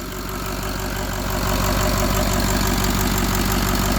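A Ford 6.0 Powerstroke diesel engine idles on a test stand with a steady, loud rumble and a rhythmic knock, its pitch and loudness rising partway through as it starts climbing toward a higher idle.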